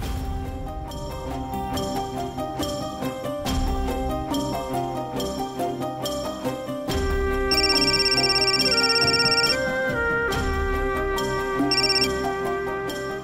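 A phone ringtone plays alone indoors, a repeating melodic electronic tune that grows louder partway through and continues steadily to the end.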